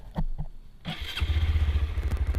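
A Honda MSX 125 Grom motorcycle with its original exhaust is started: a short cranking burst, then the small single-cylinder engine catches and settles into a steady, close, fairly quiet idle with a soft, even pulsing note.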